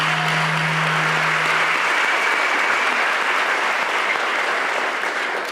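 Steady audience applause at a school state-of-the-schools event, broad and sustained crowd clapping filling the whole stretch with no speech over it.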